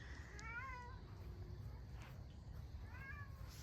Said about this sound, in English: There's a little kitty up there.